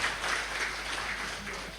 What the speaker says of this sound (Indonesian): Sekali lagi tepuk tangan untuk Mbak Ruru.